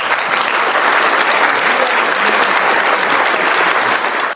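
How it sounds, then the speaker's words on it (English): Loud, dense audience applause at a stand-up comedy show, continuous clapping that fills the whole stretch without a break and stops abruptly at the end. "let me get applause for that"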